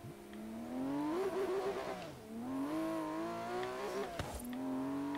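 A rear-wheel-drive car accelerates in the racing game Forza Horizon 3, its engine climbing in pitch through the gears with brief drops at shifts, a steady loud synthetic roar with no talking.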